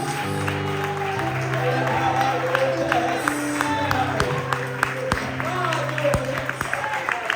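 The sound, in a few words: church congregation applauding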